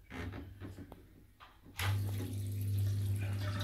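Small pump starting up and pushing water through a DIY biopellet reactor: quiet handling and clicks, then a sudden steady hum with running, splashing water that continues evenly to the end.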